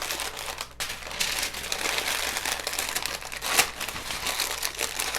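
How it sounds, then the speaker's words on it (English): Parchment paper crinkles continuously as it is folded closed into a bundle around beets for roasting, a close, steady crackling rustle with a few sharper crunches and no talk. "Then you're going to take your parchment paper and you're going to close this up."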